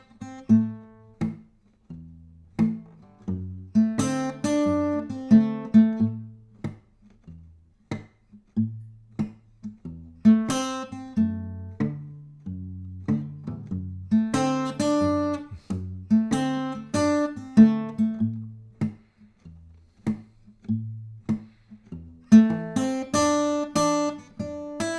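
An improvised blues solo, probably on bass, plays separated phrases with pauses between them, each ending in short, long or delayed resolutions, close and unaccompanied.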